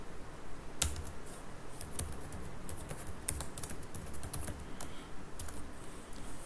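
Fingers type code on a computer keyboard in quick, uneven bursts of light clicks at close range, with a few sharper key strikes, alone without talk.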